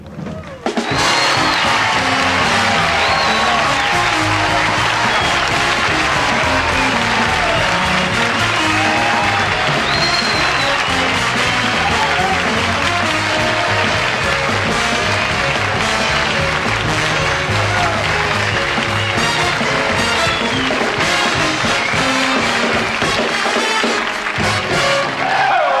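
A studio audience for Johnny Carson on The Tonight Show in 1973 gives loud, sustained applause and cheering. It swells after a brief start, holds for nearly half a minute, then tapers off at the end.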